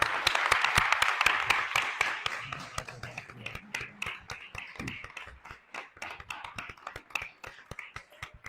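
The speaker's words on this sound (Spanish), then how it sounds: "para quien pedimos un fuerte aplauso" Audience applause welcoming a division head at a law conference on Roman property, a dense burst of claps that thins into scattered, sparse clapping over several seconds.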